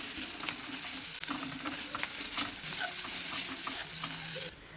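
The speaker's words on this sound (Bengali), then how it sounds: "পেঁয়াজটা একটু ভাজা ভাজা করে নিয়েছি আর এখন দিয়ে দিলাম আদা রসুন বাটা আদা রসুন বাটা দিয়ে এবার একটু কষিয়ে নেবো" Fried onion and ginger-garlic paste sauté in a pan on a gas stove, with a continuous sizzle broken by repeated scraping stirs of a spatula, close and fairly loud, with no talking.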